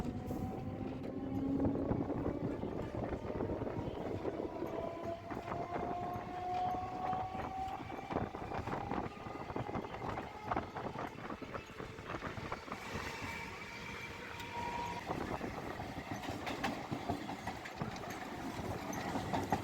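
A Chennai suburban train running from Chennai Beach to Tambaram rumbles and clatters steadily from inside the carriage, with a continuous rhythmic wheel-and-rail roar and faint tonal whines rising and falling throughout, no voices.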